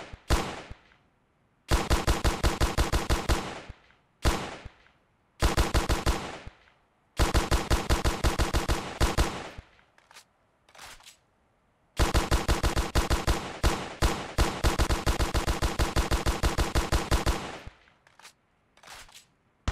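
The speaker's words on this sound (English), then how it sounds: "The Beretta ARX-160 is a compact assault rifle and was developed for the Italian military Future Soldier program" Beretta ARX160 assault rifle firing full-auto in Ravenfield, with several long, loud, rapid bursts separated by short pauses and a few single shots. No voices.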